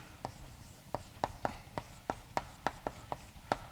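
Chalk or marker writing a probability formula on a board during a statistics lecture, a run of about fourteen sharp, quick taps and strokes in an uneven rhythm, close and clear over a quiet room.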